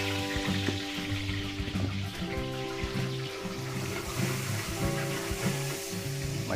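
Margarine sizzles in a pan with frying meat, a steady close crackle running throughout with light stirring clatter and a low background hum.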